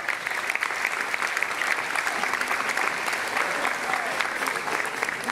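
Applause fills a music award ceremony where singers, composers and producers are being honored. The crowd claps in a dense, continuous wash that holds steady at moderate volume for several seconds, with no talk on top.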